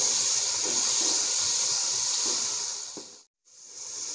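Tomatoes and green chillies sizzle in a hot pan for egg korma, a loud, steady frying hiss up close that cuts out briefly near the end before resuming.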